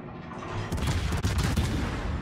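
Naval gunfire from warships in World of Warships: a sustained rumbling barrage of heavy cannon booms, dense and loud throughout, with no talk over it.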